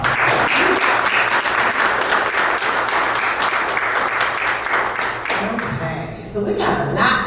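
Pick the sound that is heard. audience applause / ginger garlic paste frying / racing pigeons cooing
audience applause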